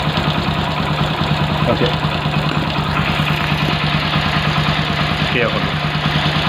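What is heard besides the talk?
bike engine idling during carburetor adjustment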